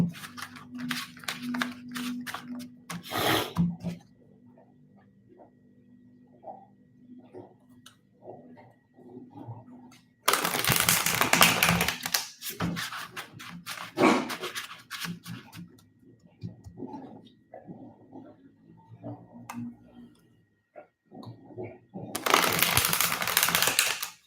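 Tarot cards are shuffled in close, crisp bursts of rapid riffling and flapping, with quieter stretches of softer card handling and tapping between the louder shuffles.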